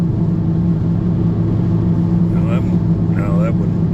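A Chevrolet Monte Carlo SS engine rumbles steadily and close for a few seconds, with someone talking over the low, even drone.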